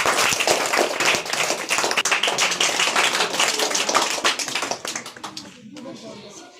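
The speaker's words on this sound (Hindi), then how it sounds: "जोरदार तालियों से" Loud, dense applause with many hands clapping at once, sustained for several seconds before thinning out and fading near the end.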